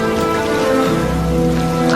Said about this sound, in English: It's pissing it down.